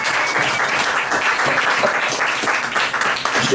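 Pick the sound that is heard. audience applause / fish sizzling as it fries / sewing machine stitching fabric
audience applause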